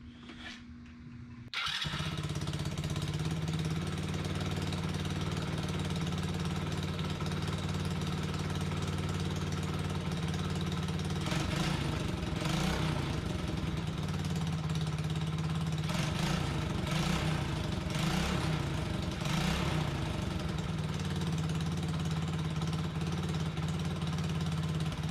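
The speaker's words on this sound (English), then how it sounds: "Let's see if she fires up" A Tao Coolster Chinese ATV, freshly rewired with a new carburetor and oil, cranks and fires up, then settles into a steady, loud idle with a low throbbing rumble that holds close and constant, with a few revving surges midway.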